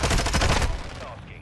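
Rapid bursts of gunfire from a Call of Duty Headquarters match, a dense automatic volley for about half a second that cuts off and leaves a fading echo.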